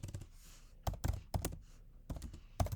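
A computer keyboard clatters as a short message is typed, bursts of quick close clicks separated by brief pauses.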